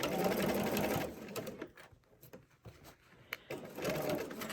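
Sewing machine stitching slowly around a curve on a crossbody bag, steady whirring runs at the start, slows to sparse ticks and taps through the middle, then resumes a close, even hum near the end.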